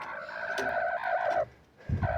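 A hen with her chicks gives a drawn-out, wavering cluck, then a short pause and a second call starting, close and moderately loud over a low background murmur.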